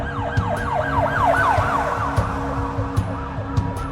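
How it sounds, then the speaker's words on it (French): Police car sirens arriving along a street at night, a loud wailing siren rising and falling in steady sweeps close by, with a low engine rumble and sharp clicks beneath. "Levi Collins aperçoit des gyrophares remonter la rue"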